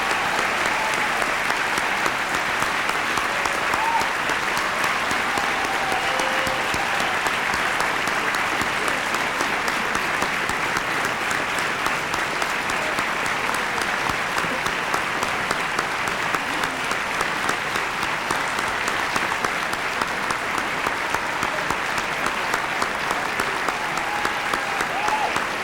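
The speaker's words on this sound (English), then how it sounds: "one more round of applause for all our contestants" Sustained audience applause at a Toastmasters speech contest, steady dense clapping from a large crowd filling the whole stretch without a break or any voices.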